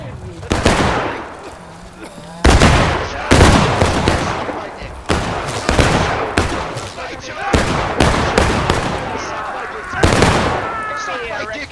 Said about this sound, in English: they're exchanging heated gunfire